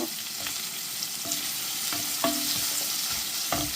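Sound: chopped onions frying in a pan

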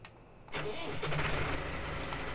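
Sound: Massey Ferguson tractor engine starting, video game mod

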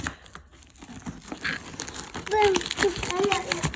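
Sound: tearing open taped chocolate packaging

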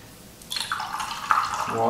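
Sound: rinsing a Chinese painting brush in water

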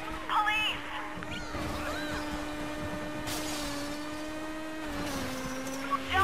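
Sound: Kawasaki Ninja motorcycle engine in Midnight Club Los Angeles video game

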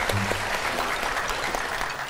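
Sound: applause

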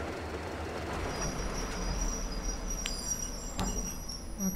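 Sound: train passing in video game Metro Exodus

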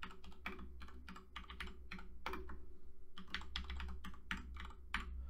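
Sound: typing a collection name on a computer keyboard

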